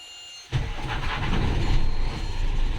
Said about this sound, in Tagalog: Tignan nyo tignan nyo, pakinggan nyo yung makina.